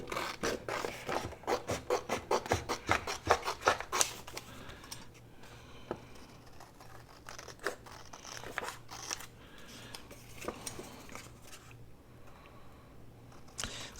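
Scissors snip through paper while cutting out small pieces for a flip-side tuck envelope, a quick run of crisp close cuts at first, then slower, quieter snips and rustling.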